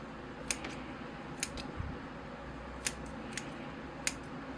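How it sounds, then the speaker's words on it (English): Scissors snip through lemon cypress bonsai roots, five or six crisp, sparse cuts spaced about a second apart, close and fairly quiet over a low room hum. "Trim all these roots on the bottom so it's flat on the bottom."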